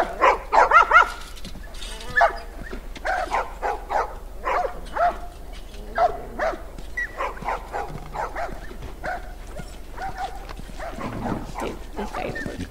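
Video game dogs barking repeatedly at a kennel where the dogs are sold out, a run of sharp, fairly close woofs spread across the whole stretch with little pause between them.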